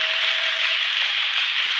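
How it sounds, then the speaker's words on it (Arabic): Warm applause for an under-14 girls' player at an Al Riyadi Club basketball skills challenge, a steady broadband wash of clapping held at an even level throughout without pause. "وصلت تصفيق حار"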